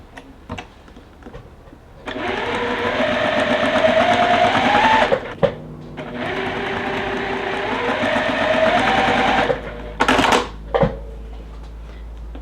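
A sewing machine stitching tiny quilt block pieces runs in two steady, close whirring bursts of several seconds each, with a short pause between, followed by a couple of brief clicks and handling noises.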